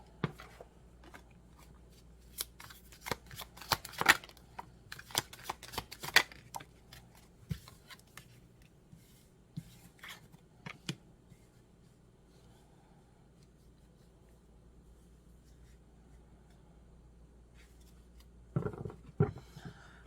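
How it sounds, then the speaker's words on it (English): Tarot cards shuffled by hand, close and fairly quiet, in bursts of crisp riffling and flicking slaps spread over the first ten seconds, then a near-silent pause before another short shuffle. "We're going to go ahead and give it a couple more shuffles."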